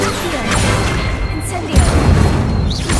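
Spell impacts in Hogwarts Legacy as the Incendio and Leviosa spells are cast: a pair of crashing, whooshing magical bursts, a thump landing midway, with no voices over them.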